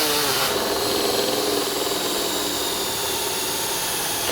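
A power drill whines loudly and continuously, close up, as it bores holes through a Stanley FatMax case being fitted out as an airbrush case.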